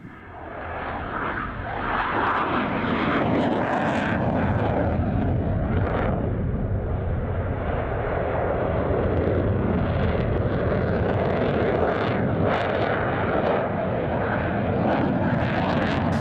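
A Belgian Air Force F-16 fighter jet flies past with a loud, sustained jet roar that builds quickly and stays heavy and rumbling for the whole pass, with a faint voice commenting underneath.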